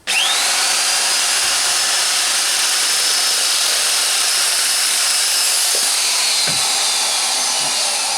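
A Makita JS3200 shear slices through 1.6 mm mild steel, a loud, steady high-pitched motor whine running the whole time with a faint grinding edge and a few brief clicks near the end.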